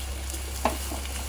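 Oil sizzles in a pan as bhurji cooks, a low continuous frying hiss over a steady hum, with one brief utensil knock midway.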